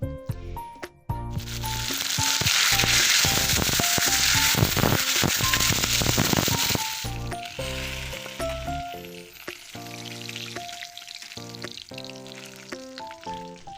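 Bata fish frying in hot oil in a pan, a loud dense sizzle for several seconds that then eases, with a few clinks of a utensil and faint background music.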